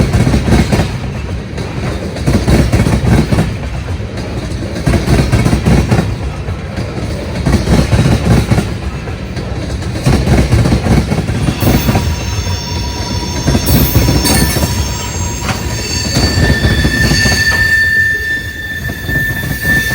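A Canadian Pacific SD70ACU diesel locomotive on a freight train rolls past, loud and close, with a rhythmic clatter of wheels over rail joints and high squealing toward the end.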